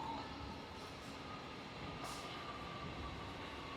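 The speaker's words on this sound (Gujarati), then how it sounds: "અંદરથી ટ્રેન આવે અંડરગ્રાઉન્ડથી." An underground train arrives at a station: a low, steady rumble of wheels and carriages, fairly faint and continuous, with no clear speech.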